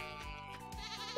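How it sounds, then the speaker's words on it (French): Sheep bleating in the Stardew Valley farm game, a clear, wavering, steady bleat lasting about a second, close and alone with no talk. "C'est pas la chèvre, c'est le mouton."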